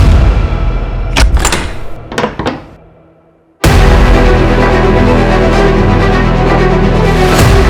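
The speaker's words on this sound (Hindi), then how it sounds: "दरवाजा तोड़ो।" Several heavy thuds strike a locked house door as it is forced open in a crime drama scene, followed by a loud, sustained burst of noise.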